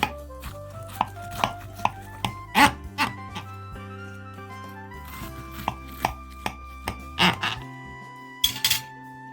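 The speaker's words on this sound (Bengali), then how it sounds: "এখন আমি আপনাদেরকে কেটে দেখে দিচ্ছি কীরকম হয়েছে আজকের এই পাস্তার রেসিপিটা" A knife cutting through oven-baked keema pasta in a dish, a series of sharp clinks and taps against the pan at irregular intervals, close and distinct over a quiet background hum.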